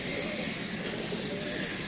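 Pigeons coo softly in a trapping net where a captured Chapdi female and Rampuri male pigeon pair are kept, a continuous low murmur of cooing and bird sounds with faint talk over it.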